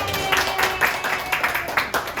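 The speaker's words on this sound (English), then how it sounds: "Give them a round of applause." Guests at an evening showcase get a round of applause from the audience: steady, fairly close clapping with repeated bursts of louder claps, set over a faint constant hum.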